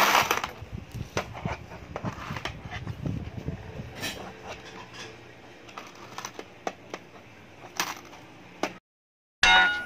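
Coins dropping one after another into a child's piggy bank, a run of sharp metallic clinks and taps close by, thinning out toward the end with a brief silent gap.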